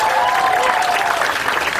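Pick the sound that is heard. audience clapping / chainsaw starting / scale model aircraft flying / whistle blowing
audience clapping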